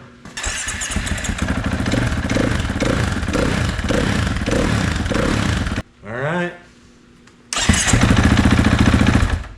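A motorcycle engine idles loudly and steadily, cuts out briefly with a short starter whine and a spoken word, then rumbles back to life.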